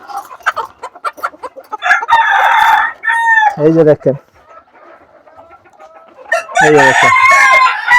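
Old crested, naked-neck hens cluck in bursts on a farm while a rooster crows loudly nearby, and someone speaks over the birds.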